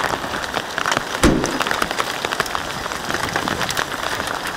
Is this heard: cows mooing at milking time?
no